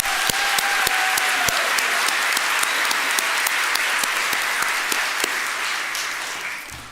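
An audience at a nursing pinning ceremony gives award recipients a steady round of applause: many hands clapping together, fairly loud and continuous, fading slightly toward the end.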